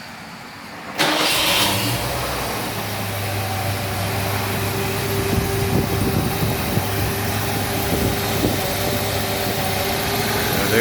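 A 1972 Continental Mark IV with a 460 cubic inch V8 and a new Edelbrock carburetor cranks and fires after a second of quiet, then settles into a loud, steady idle close by.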